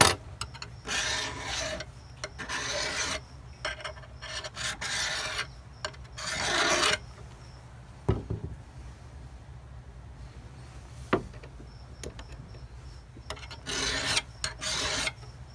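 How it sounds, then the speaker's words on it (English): Metal file rasping a part to fit on a 10/22 rifle build, repeated close back-and-forth strokes in bursts with pauses and occasional clicks between, no talk. "So we're going to just run it on the file a few times."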